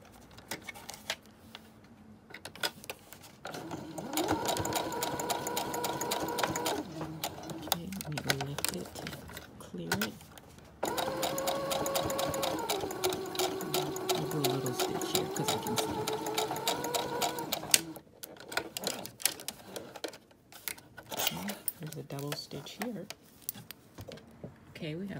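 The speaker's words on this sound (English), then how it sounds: "I'll just do a double stitch rather than going backwards, so that I can be sure I see what I'm doing." A sewing machine puts in a double stitch, running in two bursts with a pause between them, a rapid clattering needle rhythm rising and falling in pitch with the motor. Scattered handling clicks and brief talk come before and after.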